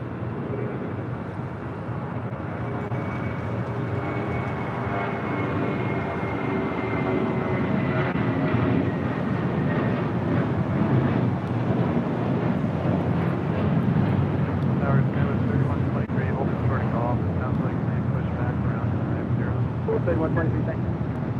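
A jet airliner's engines rumble in a long, steady, loud roar during a takeoff roll on runway 25 right at LAX, with faint talk beneath the noise.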